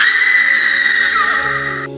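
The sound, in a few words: woman screaming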